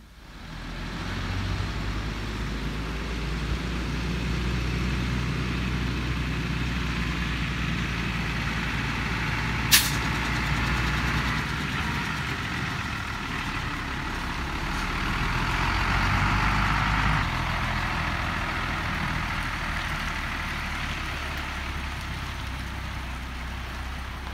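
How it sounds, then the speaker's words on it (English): A tiny house being pulled out of a shed by a truck on delivery day: a steady low engine rumble and broadband mechanical noise run throughout, swelling slightly midway, with one brief sharp click and no talk. "Just being pulled out of the shed, ready to get put onto the truck."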